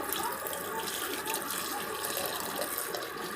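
A glass of milk poured in to join banana and dates for a milkshake, making a steady, continuous splashing pour that is close and moderately quiet, with no one speaking.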